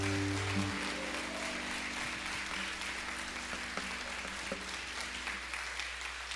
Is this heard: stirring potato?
no